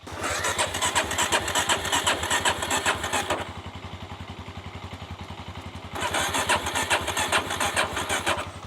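A motorcycle on a road trip in Sri Lanka, its engine starting, then idling with a steady loud chug and revving up twice in strong, rough bursts, close by and without talk.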